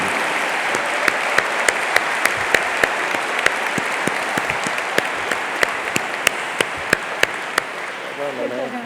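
Audience applause at a regional State of the Region program honoring two people, a dense steady wash of many hands clapping with sharp individual claps standing out, running nearly nine seconds before fading as a voice begins at the end.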